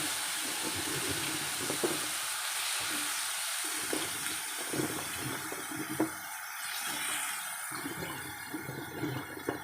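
String beans and chayote tipped into a hot pan, a steady close sizzle of frying with soft scraping and splashy clatter running throughout, no voices.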